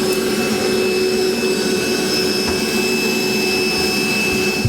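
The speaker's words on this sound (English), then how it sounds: "I'm just going to grab my vacuum cleaner and pick up our mess here." A vacuum cleaner runs steadily, a loud close motor whine with a constant high tone and no breaks.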